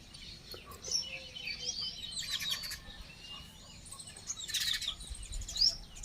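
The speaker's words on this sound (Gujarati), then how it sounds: "આ ચકચક કરતી ચકલી જોવાની ખૂબ મજા આવે" Baya weaver birds chirping outdoors near a river, with scattered quick high tweets and calls coming and going over a quiet, soft background, no talking.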